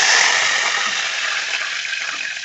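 Curry leaves crackle and sizzle in hot oil as a tempering for dal, a dense, steady, close-up hiss that runs throughout with no one speaking.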